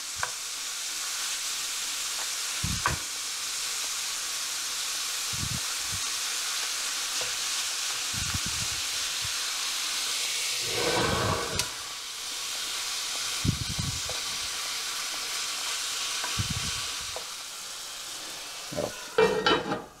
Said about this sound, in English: Let's get that nicely browned up.